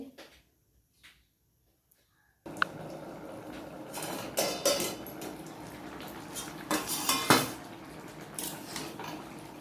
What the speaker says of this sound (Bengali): এবার আমি একটা থালি দিয়ে ঢেকে দেবো কিছুক্ষণ ফুটতে দেবো